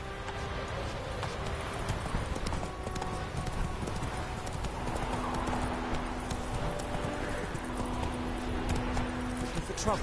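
Steady galloping hoofbeats of Roach, the horse in The Witcher 3: Wild Hunt, rhythmic and close, continuing throughout with a faint whinny-like tone and low outdoor ambience.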